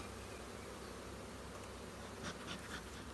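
Honeybees swarm around an open hive during an acacia honey harvest, making a faint, steady, unbroken buzz with a few slightly louder passes near the end.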